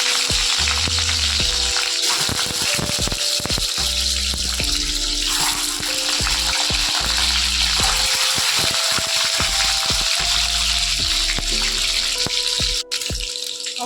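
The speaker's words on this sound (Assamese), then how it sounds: "তেলখিনি গৰম হৈছে, ইয়াতে মই কণীখিনি ফ্ৰাই কৰি ল'ম।" Eggs frying in hot oil in a pan, a steady loud crackling sizzle with bursts of spattering that runs unbroken throughout, no voices.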